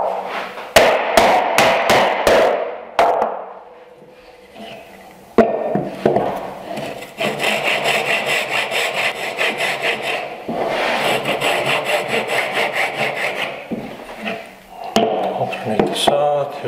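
Hand saw cutting wood for a mitered bridle joint, with rapid rhythmic rasping strokes close by, a few sharp knocks early on, and a quieter gap before sawing resumes steadily.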